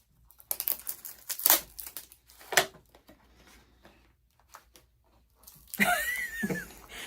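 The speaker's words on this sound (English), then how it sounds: "So much cellophane." Loud, close crinkling and rustling of cellophane wrapping being handled during a mystery box unboxing, coming in irregular bursts with quieter gaps and a big crackling flurry near the end.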